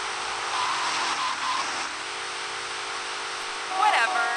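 Car engine in Grand Theft Auto Vice City, a steady broadband game-engine drone with a faint whine near the end, running throughout while someone talks over it.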